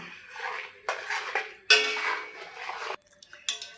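Spices and salt stirred in a cooking pot for a vegetarian drumstick chorchori, with a metal spoon clinking and scraping against the pot in short, close bursts separated by brief pauses.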